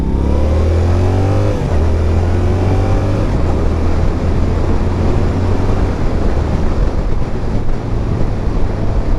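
A Yamaha R7 sport motorcycle engine revs hard and continuously, rising in pitch through the gears with quick shifts, loud and close like an onboard recording while riding.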